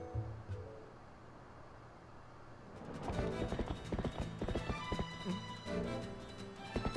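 Quiet at first, then rapid horse hoofbeats clop in a steady rhythm in The Legend of Zelda: Twilight Princess, growing louder with faint whinnying mixed in.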